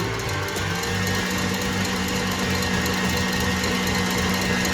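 An electric mixer whips meringue at a higher speed, a loud, steady whirring drone that holds without a break and has no talk over it.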